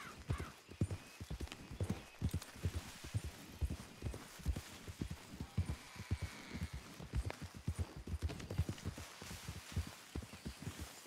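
Steady clip-clop of horse hooves in the video game Red Dead Redemption 2, fairly close, with a brief whinny near the start and faint background ambience.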